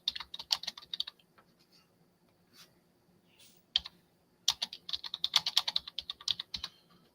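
A computer keyboard is typed on in rapid clicking bursts, crisp and close, with a pause in the middle before a dense flurry of keystrokes resumes.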